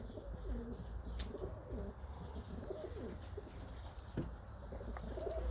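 Pigeons or doves cooing outdoors in winter, soft repeated low coos with a few chirps over a steady background hum, moderately near.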